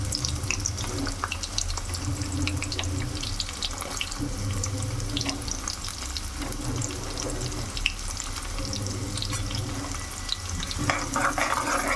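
Finely chopped onion fries in hot tempering oil with seeds for a brinjal curry. A steady, hissing sizzle runs throughout at moderate volume, close by, with faint scattered crackles.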